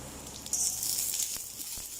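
Spring onion greens being sautéed in a pan, with a short, close sizzling hiss that flares up briefly and then settles into a softer fry.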